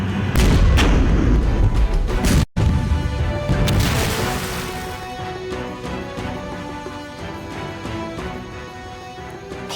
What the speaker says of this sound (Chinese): 炮火掩护